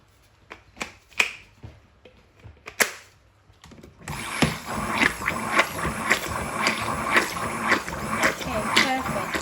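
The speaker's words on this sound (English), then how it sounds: "I'm gonna go in with the whisk." A whisk beats a lavender soap mixture in a bowl, a steady fast clatter and scrape that starts partway through and continues loudly, after a few sparse clicks and taps.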